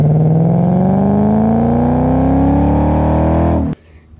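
Loud Infiniti Q45 exhaust through a Vibrant racing muffler with Magnaflow tips, revving up steadily, engine pitch climbing for a few seconds before cutting off abruptly, leaving quiet background.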